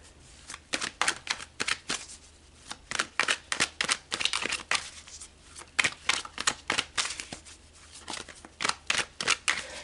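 A deck of tarot cards is shuffled up close, a quick run of crisp riffling bursts and soft slaps repeating in irregular batches, with no talking.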